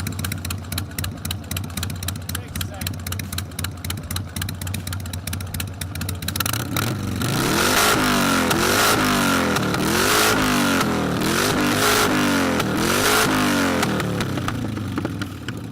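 A Harley motorcycle engine idles with a loping, rapid thump, then revs up into loud, repeated rising and falling blasts, close and continuous for the rest of the clip.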